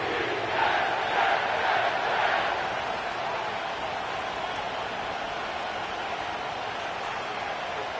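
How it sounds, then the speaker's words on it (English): A stadium crowd roars in an EA Sports football video game set at the New York Jets' home ground in East Rutherford, New Jersey. The cheering swells briefly near the start, then settles into a steady, loud wash of noise. "The crowd is definitely ready."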